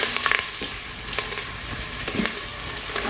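Cabbage hits hot oil seasoned with asafoetida in an Instant Pot, a bright, busy sizzle with a few quick clicks and scrapes from stirring near the start and middle.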